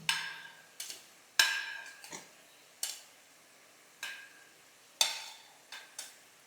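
Cauliflower pieces clatter into a hot kadai one after another, each drop a sharp clink and soft sizzle, spaced evenly and fading quickly, with no voices.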